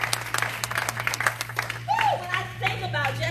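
An audience claps at a World Menstrual Day celebration in Atlanta: scattered, fairly close handclaps mixed with murmuring voices and a brief whoop over a steady low hum.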